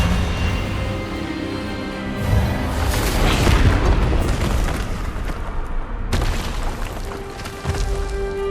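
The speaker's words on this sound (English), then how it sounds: "Expelliarmus!" The Expelliarmus spell in the video game Hogwarts Legacy lands as a series of loud, booming magical blasts and rumbling bursts, with a sharp cut near the middle and continued deep impacts afterward.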